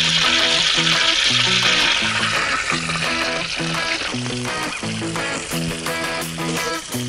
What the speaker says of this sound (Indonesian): Sekarang saatnya kita goreng dulu ulat babate.